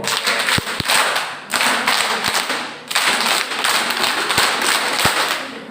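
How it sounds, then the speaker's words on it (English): An audience at a seminar series bursts into snappy group applause, broad crackling clapping in loud waves separated by brief pauses, with a few sharp isolated claps standing out. "So we can give a good snappy clap to our resource person"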